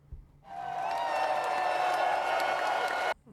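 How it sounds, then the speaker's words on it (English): Applause from one person, a steady wash of clapping that starts abruptly, holds at an even, fairly loud level for under three seconds and then cuts off. "That's me applauding for him."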